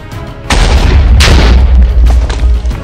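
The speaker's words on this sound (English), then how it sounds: "Hopefully these ones give us a bigger explosion than last time." A loud, booming explosion in Minecraft blasts a chunk out of a wall, a sudden deep thud followed by a rumbling roar with a second burst of crackling debris, close and dominant.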